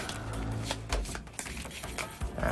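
Someone shuffling a small four-card night raid deck from the This War of Mine board game, with quick papery riffles and taps close up, brief and fairly quiet.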